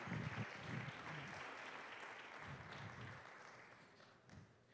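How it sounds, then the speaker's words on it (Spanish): Congregation applauding at an international church convention after a pastor's prayer; a fairly faint, steady wash of clapping with low murmuring voices underneath. "Un aplauso, Señor."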